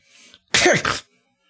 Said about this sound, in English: Careful with that sneezing.